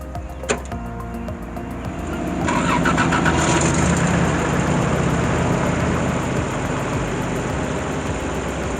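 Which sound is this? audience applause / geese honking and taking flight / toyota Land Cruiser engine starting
toyota Land Cruiser engine starting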